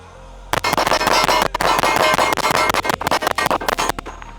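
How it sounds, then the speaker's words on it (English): Rapid strings of sharp pistol shots from an STI Kovert Cosaint handgun, loud and close, fired in quick bursts of near-continuous cracks with a short pause early on. "That's a super smooth shooting gun."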